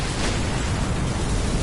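Continuous loud rumbling blast noise from an in-game explosion, a dense broadband roar with heavy low end holding steady for the whole stretch.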